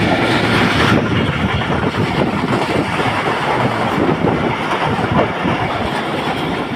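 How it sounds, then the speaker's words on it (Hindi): A passenger train running on tracks through Sindh, heard from on board as a loud continuous rumble with rhythmic clickety-clack of the wheels and no voices. "ट्रेन में सफ़र करने का मज़ा ही अपना है।"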